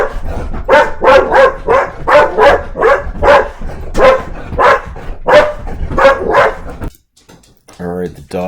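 Several dogs bark loudly and repeatedly in a steady, closely spaced run of sharp woofs, then fall silent, followed by a short burst of other sound.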